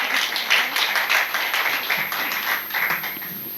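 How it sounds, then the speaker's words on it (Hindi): Loud, dense applause from a poetry recital audience at a Hindi kavi sammelan fills the room, with quick, overlapping claps sustained throughout. "जोरदार तालियां होनी चाहिए।"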